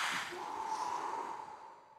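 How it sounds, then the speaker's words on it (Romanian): A person draws a deep breath and pushes it out forcefully, a single long, airy exhale that is close and fairly loud, fading toward the end. "respira adânc și expiră puternic."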